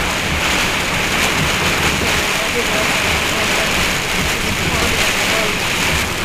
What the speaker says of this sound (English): Within minutes, the road started to pond from all the rain coming down.